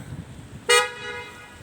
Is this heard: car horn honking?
yes